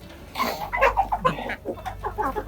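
Farm chickens clucking and calling close by in short uneven bursts over a low background rumble, with no speech.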